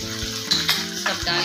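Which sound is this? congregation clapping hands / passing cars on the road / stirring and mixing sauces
stirring and mixing sauces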